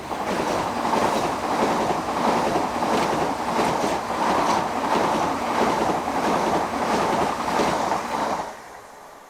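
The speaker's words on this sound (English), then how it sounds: "Slowing with the 1655 from London Victoria to Ramsgate are units 375, 804 and 813." A Class 375 electric multiple unit runs along a Kent railway line, a steady loud rumble with rhythmic wheel clatter over rail joints lasting several seconds before fading abruptly near the end.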